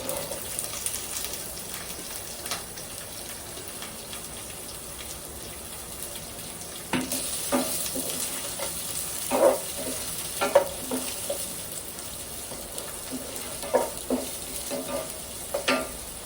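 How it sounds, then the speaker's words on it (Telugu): Onion and three green chillies fry in a pan with a steady, soft sizzle and hiss, broken by occasional scraping clicks of a spatula stirring, close by with no talk. "ఒక 3 పచ్చిమిరపకాయలు వేస్తున్నాను దీంట్లో"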